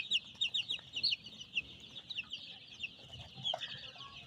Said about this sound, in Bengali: দেখুন টাইগার মুরগি